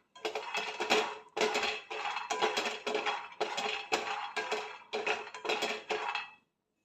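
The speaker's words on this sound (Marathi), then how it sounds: "पॅन गरम करायला ठेवलेले त्यामध्ये शेंगदाणे घालते शेंगदाणे चांगले खमंग भाजून घ्यायचे आहेत" Peanuts dry-roast in a hot pan and are stirred in repeated bursts, a rattling, clattering rush of nuts against metal in about eight short runs with brief pauses, close and clear with no voices.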